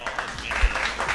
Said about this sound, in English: y'all clap it up for Star